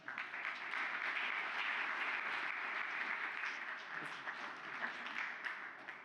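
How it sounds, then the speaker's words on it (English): Soft, fairly quiet applause from a group following a guided breathing exercise, an even wash of clapping that holds for several seconds with a few louder claps standing out, heard alone without speech. "Give yourself a round of applause."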